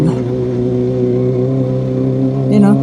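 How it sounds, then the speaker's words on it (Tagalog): A vehicle engine revs hard on a rough sandy road in San Jose, Tarlac, as the wheels spin in loose sand. It makes a steady, loud droning hum that swells briefly near the end. "sa lakas ng makina natin, parang umiikot lang yung gulong natin sa buhangin"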